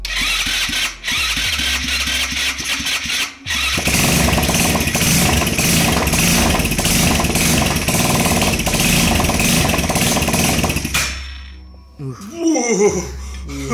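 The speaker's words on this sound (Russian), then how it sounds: "Вообще двигатель прыгает вообще." A Racer Meteor 50 motorcycle engine, an old scrap bike being rebuilt for stunts, revs loud and close with a rough buzzing roar that holds steady for several seconds, then drops off abruptly, with faint voices near the end.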